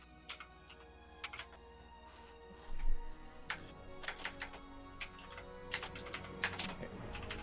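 Fingers type on a computer keyboard, a steady patter of close, soft key clicks with a few louder taps and a brief thump, no talk.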